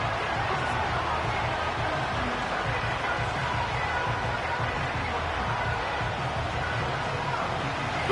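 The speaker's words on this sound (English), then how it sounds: "Crowd cranking it up another notch before third and long" A packed football stadium crowd roars before a third-and-long play, a loud, steady wall of noise that stays unbroken and undiminished throughout.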